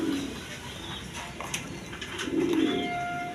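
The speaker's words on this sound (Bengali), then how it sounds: "এগুলো খামারি কবুতর" Farm-bred pigeons coo in low, throaty bursts, one at the start and another near the end, over a soft background hum with faint flutters.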